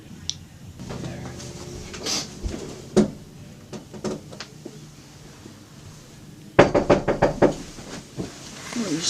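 Knocks on a locked door arrive in a few scattered thuds, then a louder burst of rapid raps near the end, set against faint room noise with some background activity.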